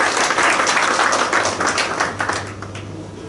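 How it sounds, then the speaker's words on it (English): Loud applause from an audience at a transfer pricing study course, dense steady clapping throughout that thins slightly toward the end, with a low hum underneath. "I request all of you to carry the thanks with a loud applause."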